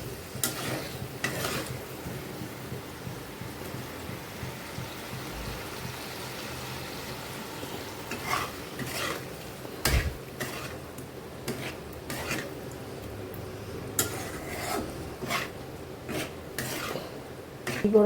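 Curry masala for a jackfruit kofta curry is stir-fried in a pan, giving a quiet scraping and rubbing of a spoon against metal with faint sizzling and a few sharper knocks.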